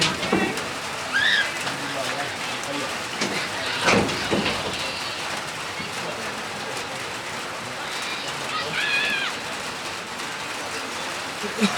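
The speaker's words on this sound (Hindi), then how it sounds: "ये बारिश से बारिश शुरू हो गई और ये तो रुकने वाली नहीं है" Steady rain falls at an outdoor cricket match, a dense continuous hiss with birds chirping and voices talking in the background.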